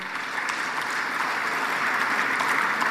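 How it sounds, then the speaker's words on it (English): A crowd at an Africa energy summit applauds an innovation award winner, a steady wash of clapping that swells slightly and holds at a constant moderate loudness with no talk on top. "Let's give him a round of applause."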